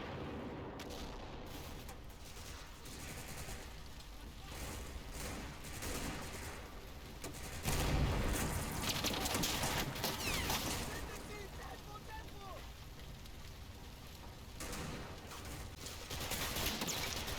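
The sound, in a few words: gunfire in Combat Mission Fortress Italy video game battle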